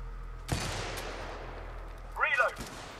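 A single sharp, loud shot from a turret in the co-op video game Helldivers, followed by a brief warbling electronic tone in a quiet in-game scene.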